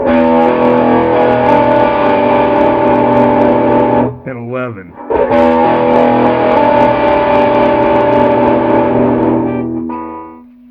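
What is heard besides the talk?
guitar through distortion pedal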